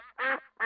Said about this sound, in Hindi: बत्तख की आवाज कुछ इस तरह से होती है।